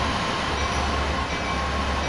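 A 3,000 horsepower CSX freight locomotive runs in a train driving game, giving a dense, constant engine and rail rumble that stays loud and unchanging throughout, with no voices.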